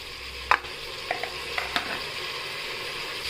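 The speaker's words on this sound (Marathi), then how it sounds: "लसूण आणि आल्याची पेस्ट टाकली, ती परतून घेऊया चांगली।" Garlic-ginger paste, peas and tomatoes sauté in hot oil with a soft, steady sizzle, punctuated by several light spoon taps and scrapes against the pan.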